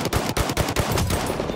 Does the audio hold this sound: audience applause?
no